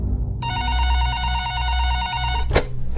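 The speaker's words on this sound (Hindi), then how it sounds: "ठीक 11 बजे फोन की घंटी बजी।" A telephone bell rings in one sustained, bright ring of about two seconds, fairly loud over a low background hum, then breaks off with a sharp click.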